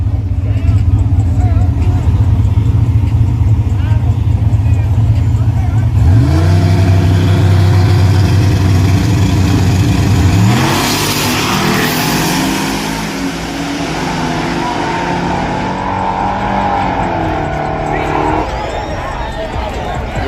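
Street race cars, a Silent Killer and a turbo Caprice, revving loudly then accelerating away with rising engine pitch, fading to a distant drone as a crowd murmurs and people talk over it.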